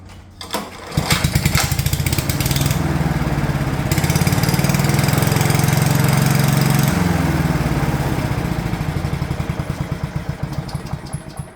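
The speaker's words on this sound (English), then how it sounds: "we're going to start the machine now that the oil change has been done" A Honda HRU196 lawn mower engine catches after about a second, right after an oil change, and then runs loud and steady nearby with a rapid chugging pulse that slightly changes pitch partway through.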